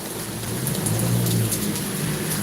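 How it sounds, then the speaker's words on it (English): Rain pours steadily around a walker outdoors, a dense, close hiss with a low rumble underneath and no voices. "Beautiful rainy day."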